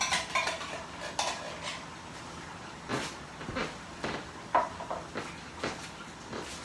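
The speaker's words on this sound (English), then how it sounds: "So I'm adding 2 mackerels to the pot." Two tinned mackerels are added to a cooking pot, with a string of light metallic clinks, taps and scrapes close by over a soft background hiss.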